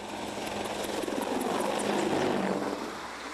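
A Boeing AH-64 Apache Longbow attack helicopter heard as a broad rotor and engine roar that swells slightly, then eases off, in a short steady burst with no talking.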